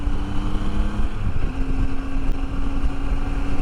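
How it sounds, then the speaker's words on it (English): A Triumph Triple motorcycle cruises along a road in Thailand, its three-cylinder engine giving a steady droning whine that shifts pitch slightly, mixed with buffeting wind noise against the microphone. "I say it's nice to hear the whistle of a Triumph Triple again."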